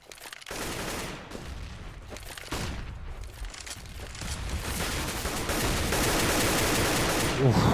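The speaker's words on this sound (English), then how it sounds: "lots of AK fire" Dense, sustained automatic AK rifle fire from a Counter-Strike match in a 3DMAX esports game, with M4A4 bursts mixed in. Shots overlap into a loud, continuous clatter that builds toward the end, with a voice faintly underneath.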